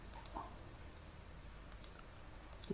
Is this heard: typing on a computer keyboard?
yes